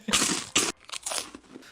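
Loud, close crunching of Ssalrobyeol, a Lotte rice cracker snack, in a few sharp bursts of crisp breaking and chewing, with a brief pause between bites.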